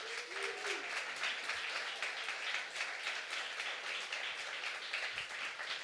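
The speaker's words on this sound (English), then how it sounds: "let's give Carly a round of applause." An audience at a Halloween horror-fest event gives a round of applause, a soft, distant, continuous patter of many hands clapping with no talk over it.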